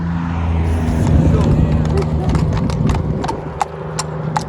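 A mare's hooves clip-clop steadily on a hard surface, close by, at a horse sale, amid a loud busy background of voices and low rumbling noise.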